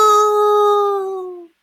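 A voice imitates children howling like dogs, a single sustained mournful howl that swells and then fades away after about a second and a half, loud and alone.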